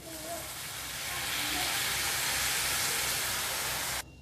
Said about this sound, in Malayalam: ഇനി ഈ സ്റ്റോക്ക് നമുക്ക് അതിലേക്ക് കുറച്ച് ആഡ് ചെയ്യണം.